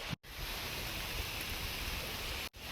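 Rain falls in the jungle on an island in Panama, a continuous, fairly soft wash of broadband hiss broken by two brief gaps of silence.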